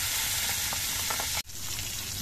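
Fish frying in hot oil a few pieces at a time, a dense continuous sizzle close to the pan, with a brief dip as something is moved before the crackling picks up again.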